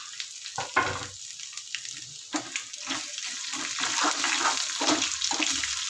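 Tempering for curd rice crackling in hot oil, a hissing sizzle with scattered sharp pops and spits that grows steadily denser and louder toward the end.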